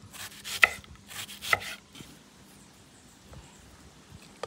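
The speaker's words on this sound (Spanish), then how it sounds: "Ahora voy a empezar por picar la cebolla." Knife chopping half a small onion into large pieces in a home kitchen, several quick crisp cuts clustered in bursts on a board, close and fairly loud, then fading to quiet with a few faint taps.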